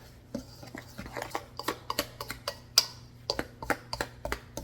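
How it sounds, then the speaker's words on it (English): A whisk clatters against a bowl while mixing kosher salt into dry biscuit ingredients, a run of sharp, close ticking strokes at an uneven rhythm with no talk. "And we're going to whisk this together."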